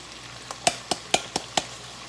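Spinach and tomatoes sauté in a pan with a soft, low sizzle, punctuated by five quick, crisp clinks of a utensil against the cookware in close succession.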